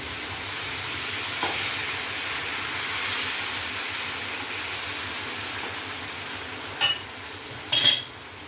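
Batter poured into a hot pan gives a continuous close sizzle, with a few brief scraping clatters near the end.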